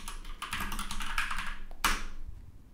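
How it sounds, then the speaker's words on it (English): Computer keyboard typing at a terminal, a quick run of close key taps over roughly two seconds with one sharper keystroke near the end, no talk over it. "inside the terminal, type npm install to install the project's dependencies"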